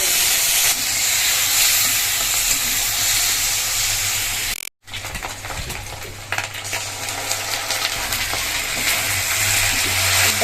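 Bay leaf and whole cumin seeds frying in fish oil in a pan, a loud hissing sizzle that briefly cuts out midway, then resumes with crackling spatter.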